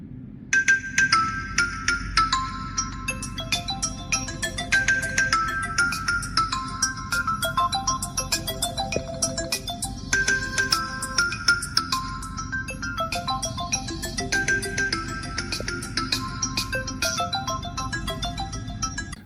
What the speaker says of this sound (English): let's test the dual speakers of this Tecno Spark 20 to see if it will pass the test